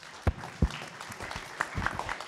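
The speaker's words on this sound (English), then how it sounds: "we'll give them a big round of applause" A few sharp claps ring out at a conference talk, then scattered light applause, fairly faint and distant.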